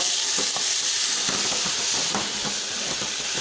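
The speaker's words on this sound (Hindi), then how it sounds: "ये जब भून के फिर दोबारा इसको हम भून रहे हैं, बस इसी तरीके से भूनते जाएंगे" Fenugreek leaves and potatoes fry in hot oil for aloo methi bhujiya, a steady broad sizzle with intermittent scraping stir strokes, close and fairly loud throughout with no talking.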